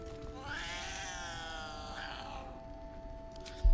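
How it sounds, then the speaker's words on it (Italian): In the video game Baldur's Gate 3, a cat lets out a long, drawn-out meow that wavers and rises, close and clear over faint background ambience, ending in a soft thump. "Qui, micio"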